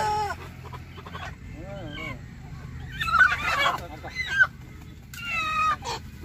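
Native nati chickens at a poultry farm cluck and call in short bursts of varying pitch, fairly close, over a steady low background hum with someone talking at times.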